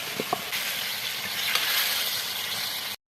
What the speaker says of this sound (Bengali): এখন আলুটা নিয়ে ভুঁজে নিব